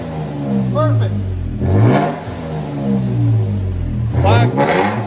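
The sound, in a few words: Toyota Tacoma 3.5L V6 revving with Black Widow Widowmaker exhaust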